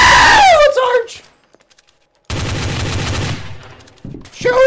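Game gunfire from Trouble in Terrorist Town: a sustained burst of rapid shots for about two seconds mid-clip, loud and dense, with excited voices before and after.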